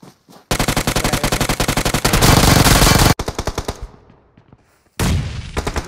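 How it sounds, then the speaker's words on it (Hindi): Rapid automatic gunfire in a mobile shooter game played on an iPhone 14 Pro Max, loud and close, with dense bursts that stop abruptly and then resume after a short quieter gap. "पीछे भी फाइट हो रहा है और फायरिंग है"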